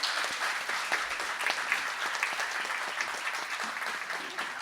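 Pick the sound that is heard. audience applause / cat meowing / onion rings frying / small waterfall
audience applause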